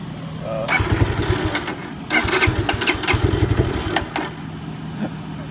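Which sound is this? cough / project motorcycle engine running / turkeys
project motorcycle engine running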